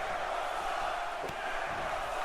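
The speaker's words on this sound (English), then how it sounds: "And the crowd in unison chanting, Jericho sucks." Arena crowd in the wrestling video game WWE 2K18 chanting in unison at a Jericho versus Strong match, a steady dense roar of many voices filling the whole moment without a break.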